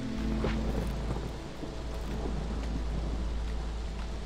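Steady heavy rain with a low rumble of thunder in the city-building game Against the Storm, a continuous dense wash of noise with no speech.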